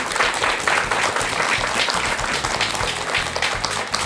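Audience applause after a Buddhist monk's talk on film at a studio event, dense steady clapping from a crowd that fills the whole stretch at an even, fairly loud level.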